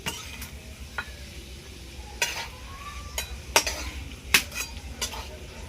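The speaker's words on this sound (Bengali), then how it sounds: "এই ঘিয়ের মধ্যে আমি 2টো তেজপাতা আর এলাচ 2টো ছিঁড়ে দিয়েছি।" Bay leaves and cardamom fry in ghee in a pan for a milk-and-gourd pudding, a faint background sizzle broken by several sharp clinks of a spoon stirring against the metal pot.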